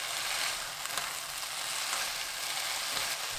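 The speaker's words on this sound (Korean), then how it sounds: "고운 소금 반큰술 넣고 센 불로 1분 볶습니다." Beet and potato stir-frying over high heat with salt, a steady close sizzle and crackle of frying holding loud and even throughout, with faint stirring scrapes.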